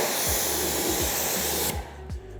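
Pressurized water spray hisses steadily across a ceramic-coated car panel during a rinse, loud and continuous before cutting off abruptly near the end, with low thumping underneath.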